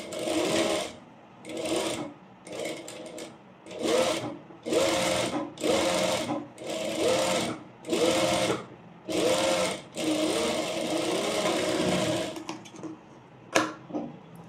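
A sewing machine stitches a pleated petticoat in repeated whirring bursts of one to two seconds, separated by short pauses, close and clear, with a faint click near the end.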